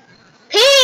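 A Minecraft pig gives a single loud, close squeal with stacked harmonics. It bursts in after a near-silent half second and holds to the end.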